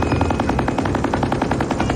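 Rapid automatic gunfire during a raid on a Medellín cartel cocaine lab in the Colombian jungle, a loud, close, continuous string of evenly spaced shots.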